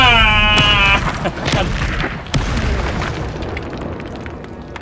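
A Confringo blasting spell explodes in the video game Hogwarts Legacy, a loud booming blast with a sharp crack, followed by a rumbling tail that fades out.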